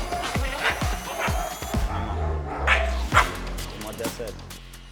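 A dog barks repeatedly in quick, sharp yips and woofs, close and loud, mixed with whimpers while people talk over it.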